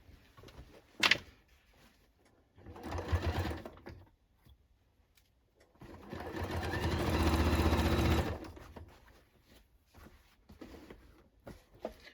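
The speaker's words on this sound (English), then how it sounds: "now I'm going up the side seams" A sewing machine stitches up the side seams of a denim jacket, running in two bursts, a short one and then a longer steady whir, with handling clicks in between.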